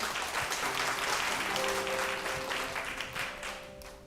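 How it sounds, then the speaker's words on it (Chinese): A church congregation claps steadily to welcome a visiting pastor at a Sunday worship service, with dense, sustained applause filling the room and a faint held musical tone underneath that fades slightly at the end. "我们拍手来欢迎他"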